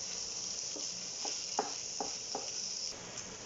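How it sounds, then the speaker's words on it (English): Burgers frying in a pan, a steady soft sizzle running throughout with a few brief stirring or shifting clicks, no talking. "I'm going to cook the burgers in the pan like so for 3-4 minutes"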